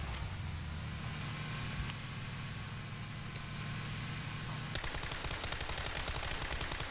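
A vehicle engine in PUBG (PlayerUnknown's Battlegrounds) drones steadily with a low rumble throughout, joined near the end by a rapid rattling pulse, all heard through game audio without talk.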